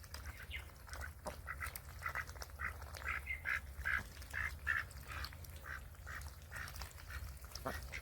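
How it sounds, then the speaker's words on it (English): Ducks quack in a steady run of repeated calls near water in a garden, fairly faint over a low background rumble. "Ducks do love the water."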